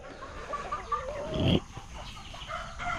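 Ducks calling in a backyard, with a handful of short nasal quacks scattered over a few seconds and a brief louder rustling burst in the middle, moderately close and alone.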